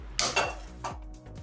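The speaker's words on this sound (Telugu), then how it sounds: "ఇప్పుడు స్టవ్ ఆన్ చేసుకొని ప్యాన్ పెట్టుకుందాం" A pan set down on a stove while cooking Telugu-style stuffed potato bread rolls, heard as two or three short metallic clanks close by in a quiet kitchen.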